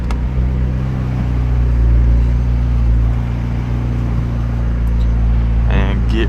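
McLaren 720S supercar cruising on the Pacific Coast Highway at sunset, its engine a steady low drone heard from inside the cabin, with a brief rising whine near the end.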